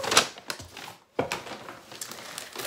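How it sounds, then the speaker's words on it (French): Fragile homeware purchases, including a glass carafe, are unwrapped from their packing, with loud close crinkling and crumpling of wrapping material in bursts separated by a brief pause. "Allez, je vais tout déballer pour vous montrer tout ça."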